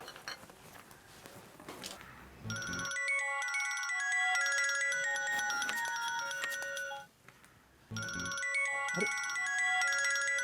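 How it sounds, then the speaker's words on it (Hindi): A mobile phone rings early in the morning with a loud melodic ringtone that plays for several seconds, pauses briefly, then starts again, over faint room noise with no talk. "ओबराय साहब का फोन सुबह सुबह।"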